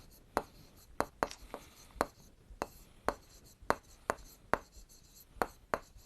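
Chalk tapping and scraping on a board during a maths lesson, sharp clicks of strokes at an irregular, roughly half-second pace, close and clear over a quiet room.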